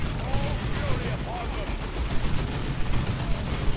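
Battle in the strategy game Dawn of War 2, Black Templars and Orks trading fire: dense, continuous rattling gunfire and explosions, with someone talking over it.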